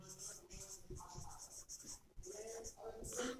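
Chalk or marker writing on a board during a maths lesson, light scratchy strokes in short bursts mixed with a voice speaking in Hindi.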